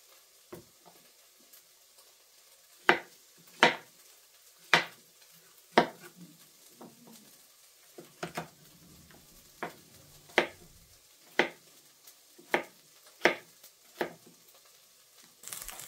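Food sizzles in a pan while a utensil scrapes and stirs, giving repeated sharp clinks at an irregular pace, close by, while sautéing for bottle gourd (upo) soup.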